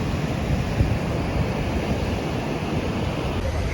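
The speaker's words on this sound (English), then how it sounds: "The relentless rhythm of the waves, combined with the salty breeze and the sound of the surf, creates a dramatic yet calming scene." Ocean surf washing against the rocky shoreline at Bandra Bandstand, a steady loud wash of breaking waves mixed with gusty wind noise on the microphone, continuous and without clear pauses.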